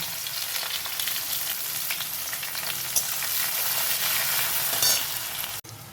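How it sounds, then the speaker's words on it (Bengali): Chopped onions frying in a pan, a loud, steady sizzle with continuous stirring, cut off abruptly just before the end. "বেশ খানিকটা পেঁয়াজ কুচি দিয়ে এবারে নাড়াচাড়া করবো।"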